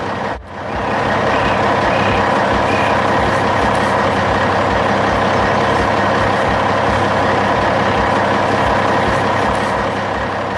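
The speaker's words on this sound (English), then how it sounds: "That yellow dump truck is carrying the skeleton of our future building." Yellow dump truck arriving and parking at a beach house construction site, a loud steady diesel engine drone that swells in after a brief dip, with faint beeping tones early on, continuing unbroken to the end.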